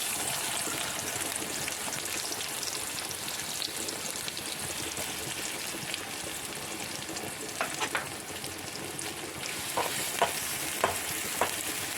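Hot oil sizzles in a continuous, fairly loud hiss as onions fry for tempering a raw cashew masala curry, with a few faint clicks of a spoon near the end.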